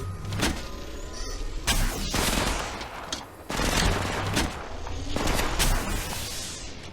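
Dense, continuous gunfire in a mobile battle-royale shooter, Apex Legends Mobile, with overlapping bursts and heavy impacts crowding one another at high, steady loudness and no pause.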